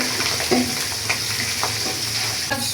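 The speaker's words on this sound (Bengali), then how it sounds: "এই মাছটিও ভাজব।" Fish frying in oil in a pan for a fish curry with taro, a continuous close sizzle and crackle with small stirring clicks, no voices.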